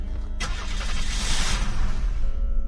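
A car engine in the Unturned video game turns over and catches, then settles into a steady mid-pitched running hum, fairly loud and alone.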